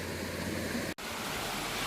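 Rushing water from a waterfall on a river during a mudlarking outing, a steady broadband roar that cuts out for an instant midway and then resumes at full strength.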